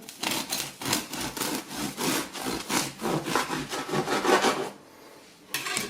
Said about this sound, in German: Aber so ein kleines Stück schneide ich mal schon weg hier.